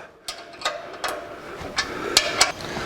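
A powder-coated radiator brace bracket being bolted onto a 1949 Chevrolet gasser gives a series of sharp metallic clicks and taps from a wrench or ratchet, about eight irregular hits, close and clear with no talking.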